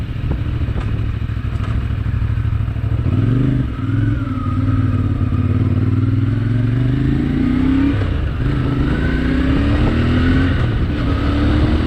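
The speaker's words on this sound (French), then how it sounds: "on est sur un moteur, je disais, en bicylindre qui est développé par CF Moto" Twin-cylinder engine of a CF Moto 450 MT adventure motorcycle (2025) under way, a steady loud drone that rises and falls as the rider shifts and accelerates, with wind rush over the whole ride.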